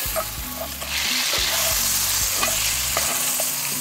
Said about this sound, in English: get mine into the pot for a little bit, just to get it a little bit of that nice nutty butter flavor